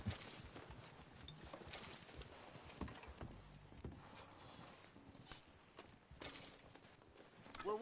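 Steady clip-clop of horse hooves at a walking pace in the video game Red Dead Redemption 2, fairly close, mixed with rustling ambient noise and no talking.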